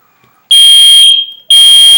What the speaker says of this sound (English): Fire alarms went off for the 3rd time.